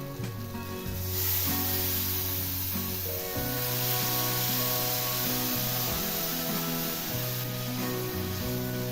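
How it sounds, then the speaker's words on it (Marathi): Water poured into fried egg-curry masala in hot oil, a sustained loud sizzle and hiss building after the first second, heard alongside background music with no talk. "आता ह्यामध्ये टाकायचं आहे पाणी मसाला वाटलेल्या भांड्यातच पाणी घालून घ्यायचं आहे"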